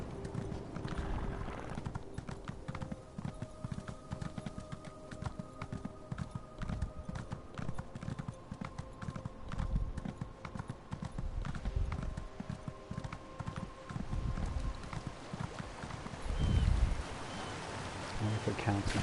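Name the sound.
horse hooves clip-clopping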